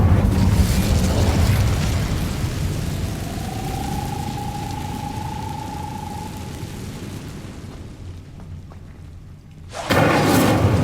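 An Incendio fire spell is cast in Hogwarts Legacy with a loud, rumbling roar of flame and a steady tone running through the middle. It tails off before a sharp, bright burst erupts right at the end.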